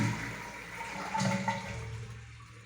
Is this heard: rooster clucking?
no